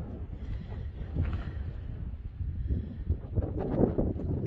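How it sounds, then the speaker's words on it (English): Strong wind gusts through Palo Duro Canyon as a steady, rough roar buffeting the microphone, swelling and easing over the seconds with a rustling texture throughout. "It's very windy today."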